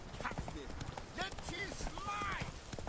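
Roach, a horse in The Witcher 3, gallops with rhythmic clip-clopping hooves, steady and close throughout, under a talking voice.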